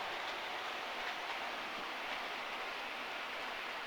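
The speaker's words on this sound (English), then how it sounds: "Yes, that's quite a slow train." A model railway train, a Flying Scotsman model, runs slowly along the track, producing a steady, even rolling hiss and rumble that continues unbroken with no talk.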